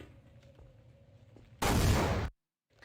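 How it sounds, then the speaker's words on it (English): A loud broadband explosion blast from the Half-Life game, running on the Source engine, bursts out abruptly after quiet background hum, holds for under a second, then cuts off to silence. "Now, if I get more of an explosion boost from this"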